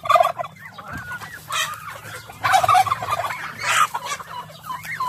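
A crowd of backyard farm chickens and turkeys jostles around feed, with overlapping clucks, gobbles and squawks rising and falling in busy bursts at close range, no speech.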